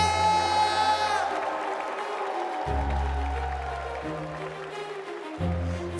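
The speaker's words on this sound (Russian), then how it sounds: "Дорогие друзья, давайте поаплодируем друг другу." Applause from guests at a festive wedding ceremony, scattered clapping and crowd noise running beneath a sustained musical tone that shifts pitch several times.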